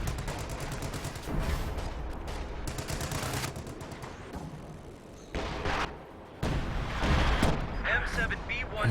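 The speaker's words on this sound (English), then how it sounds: "Oh, he's firing on the HQ." Artillery fires on a headquarters during a Company of Heroes 2 two-versus-two match, with booming shots and crackling gunfire layered under a voice talking throughout.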